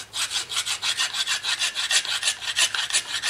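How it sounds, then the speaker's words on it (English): A hand file rasps rust scale off a rear brake part on a 2015 Corolla S in rapid back-and-forth strokes, about four per second, close and steady with no talking. "And this file, and get all this coarse stuff taken down real easy."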